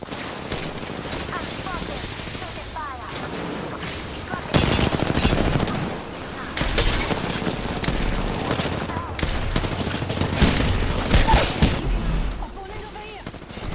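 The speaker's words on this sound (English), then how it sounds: "They're shooting at me." Heavy gunfire in the battle royale shooter Apex Legends, with sustained loud automatic bursts and volleys coming in waves across the clip, some close and intense, some quieter pauses between exchanges.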